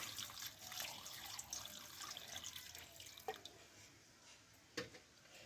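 Water is poured into a cooking pot of jackfruit seasoned with turmeric powder and salt for a vegetarian curry, a steady close splashing trickle running throughout with a couple of sharp clinks, no voices.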